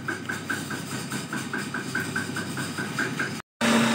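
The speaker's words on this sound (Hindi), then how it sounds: "ये अब धनिया पुदीना और हरी मिर्च प्याज के साथ पिस रहा है" An electric grinder running on coriander, mint, green chilli and onion: a steady, loud motor hum with a regular pulsing rhythm for about three and a half seconds, then a brief cut and a louder resumed whir.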